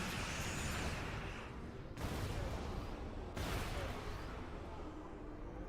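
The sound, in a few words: explosions rocking a ship in the video game Star Trek Online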